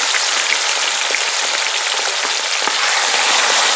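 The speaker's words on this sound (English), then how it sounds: "I want to kind of a saute fry them both sides" Fish fillets sauté in a frying pan with oil for Guyanese fish choka, a loud, dense, continuous sizzle with crackling spits, close up and without talk.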